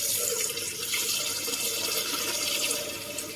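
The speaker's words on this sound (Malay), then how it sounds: "Kita hanya masukkan air je." Water runs steadily into a Thermomix bowl for its self-cleaning cycle, a continuous close splashing pour with no talk.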